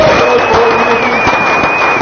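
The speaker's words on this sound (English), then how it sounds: "one last round of applause for Matt Hamilton" An audience at an XRPL conference in Miami applauds and cheers for Matt Hamilton, Ripple's principal developer advocate, a dense, steady wash of clapping and crowd noise that fills the whole stretch at close range.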